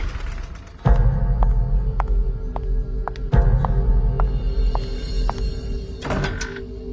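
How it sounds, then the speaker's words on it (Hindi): Knocking on a door in an animated Hindi horror story: two heavy thuds rise over a low, droning eerie ambience, with faint regular taps between them and a brief rattle near the end. "तभी दरवाजे पर दस्तक हुई।"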